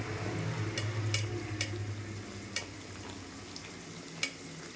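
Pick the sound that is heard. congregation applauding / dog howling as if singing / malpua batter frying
malpua batter frying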